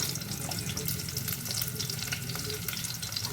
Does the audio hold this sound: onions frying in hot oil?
yes